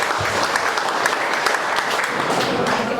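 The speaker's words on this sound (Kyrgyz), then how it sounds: "Агабыз, бир кол чаап берсеңиздер" Wedding guests clap together at a celebration in Moscow, a dense, steady burst of applause from a crowd close by, with faint voices underneath.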